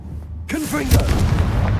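A Confringo explosive spell blasts in Hogwarts Legacy, a sudden loud boom with a rumbling, crackling tail and spell whooshes, close and forceful.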